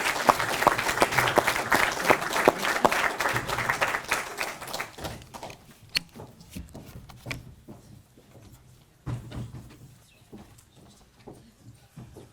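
An audience applauds the jury at a French speaking-contest semi-final: dense clapping at first, thinning into scattered, separate claps that trail off, with a short burst of renewed clapping near the end.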